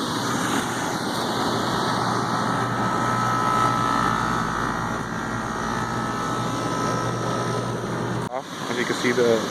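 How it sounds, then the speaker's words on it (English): An HVAC blower keeps running after the AC compressor cycles off, a loud steady airy whoosh and low hum filling the space, with a brief thump near the end followed by faint voices. "the compressor shuts off, but it keeps the blower running"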